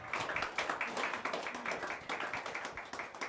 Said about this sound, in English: I'd like to ask you to give Mark Rice a warm round of applause